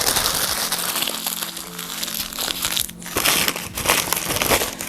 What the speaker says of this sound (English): I just crinkle it up a couple of times